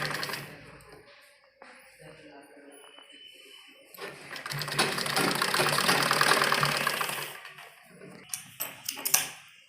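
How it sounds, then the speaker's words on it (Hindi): A sewing machine stitches the seam of a child's frock in a few separate runs, the longest a loud, steady whir in the middle, with short quieter bursts around it. "ये इस तरह से करते हुए सिलाई लगाएंगे।"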